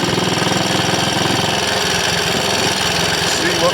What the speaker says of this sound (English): And I got a feeling that that misfire could be to do with oil getting on the plug.